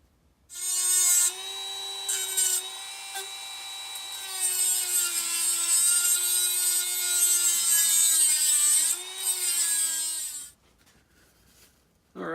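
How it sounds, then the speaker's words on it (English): A Dremel rotary tool cuts through the head of a bolt on a 1988 Dodge Raider (Mitsubishi Montero), giving a steady, loud high-pitched whine with slight pitch shifts for about ten seconds before stopping. "So I'm just going to chop the head of this bolt off with a Dremel"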